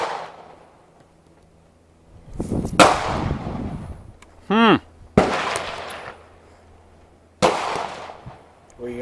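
Gunshots at an outdoor pistol shooting range crack out as several sharp, loud reports spaced a few seconds apart. Each shot rings briefly, with a faint background hum and a short electronic beep between them.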